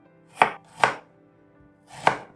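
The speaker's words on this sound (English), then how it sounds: "1 large onion, cut in half, then into quarters" A kitchen knife cuts a large onion in half and then into quarters, making three crisp, close chops on a cutting board with a short pause before the last one.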